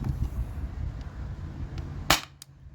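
Kinetics Sabre CO2 air gun, nearly out of gas, fired over a chronograph: a single sharp, close crack followed by a fainter second snap, over a low background hum.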